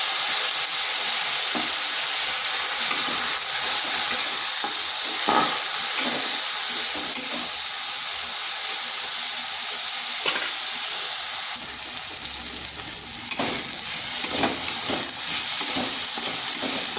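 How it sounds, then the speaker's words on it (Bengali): Red lentils (masoor dal) sizzle and hiss steadily as they are lightly fried in a pan, with a few sharp stirring scrapes and clinks over the continuous frying noise; no one speaks. "হালকা একটু ভেজে নেব। দিয়ে দিচ্ছি মসুর ডাল।"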